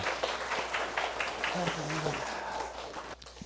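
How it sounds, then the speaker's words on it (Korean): An audience at a morning business seminar applauds, a dense run of claps from many hands that thins and fades out near the end, with a brief voice in the middle. "감사의 박수 부탁드리겠습니다"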